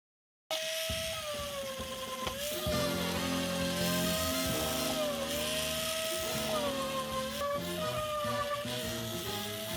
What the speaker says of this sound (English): I hit it with the sander, got most of the high spots